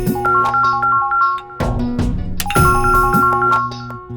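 A WhatsApp call ringtone on a phone plays loud, close and melodic, with chiming notes repeating in a phrase that breaks briefly midway and then starts again.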